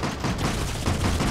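Rapid gunfire in the Deep Rock Galactic game, a dense, loud stream of shots with no pauses, filling the whole short stretch.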